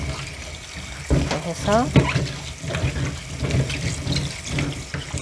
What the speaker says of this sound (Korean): 식초를 한 2컵 넣습니다.